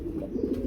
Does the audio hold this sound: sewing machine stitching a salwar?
no